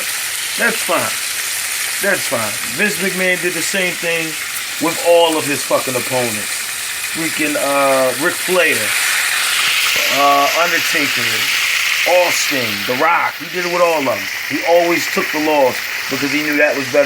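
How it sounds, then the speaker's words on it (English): Chicken sizzles and crackles steadily in a pan in the background while someone talks continuously over it. "If you hear the chicken sizzling in the background"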